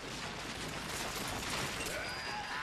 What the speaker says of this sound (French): Grenade sonique.